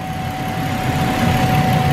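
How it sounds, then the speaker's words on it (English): A Suzuki XL7 engine runs just after an oil change, giving a steady, close, low idle hum with a faint constant whine and no talk. "start the car"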